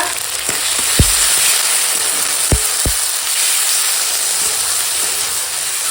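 Onion and green chili fry in a pan with spices, a loud steady sizzle and hiss running throughout, punctuated by a few sharp clinks of a utensil against the pan.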